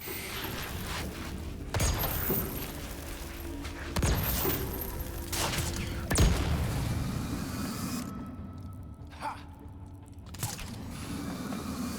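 Gunfire in the video game Gotham Knights: several sharp, loud shots and booms hit at irregular intervals over a steady mechanical background, with a few softer clanks between them.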